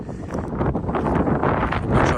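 Steady, rough wind buffeting the microphone, a loud rushing roar with no clear pauses.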